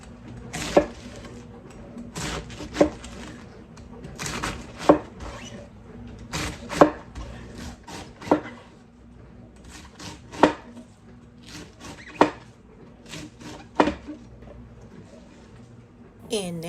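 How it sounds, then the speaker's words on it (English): A knife chops cabbage into thin strips on a cutting board, giving about a dozen sharp, crisp knocks spaced roughly every one to two seconds over quiet kitchen hum. "We're going to cut this into very thin strips,"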